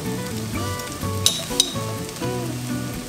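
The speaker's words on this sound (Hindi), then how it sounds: "और जब लगे जिंजर गार्लिक भून चुका है" Ginger and garlic fry in a pan with a steady close sizzle and crackle, broken by two sharp clinks of a utensil against the pan partway through.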